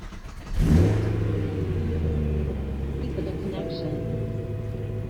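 BMW M3 with a cold start delete tune firing up: a starter crank then the engine catches with a brief rev, settling into a steady, fairly quiet idle rumble nearby.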